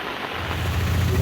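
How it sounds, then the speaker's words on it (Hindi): Heavy rain falls in Munnar in South India, a dense, loud, steady hiss with someone talking over it. "बहुत ज़्यादा बारिश हो रही है यार।"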